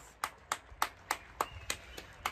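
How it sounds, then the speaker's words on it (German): Eight sharp, evenly spaced claps ring out at a slow, steady rhythm, applause for doctors and medical workers, fairly close and alone without voices. "Applaus, Applaus!"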